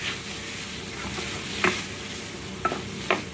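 A spoon scrapes and stirs egg noodles with soy sauce in a hot pan over a steady low sizzle, with a few distinct clicks of utensil against metal, close and without talk.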